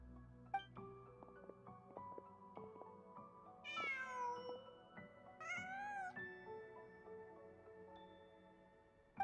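A cat in a video game lets out two drawn-out meows in quick succession over a quiet background of soft, sustained musical tones.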